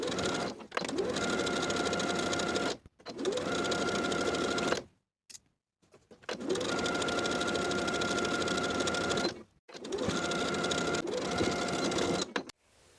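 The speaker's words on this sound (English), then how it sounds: "Edge stitch that hem in place from one side of the jacket straight across to the other." A sewing machine edge-stitches the hem of a plaid wool jacket, whirring steadily and close in four long runs broken by short pauses.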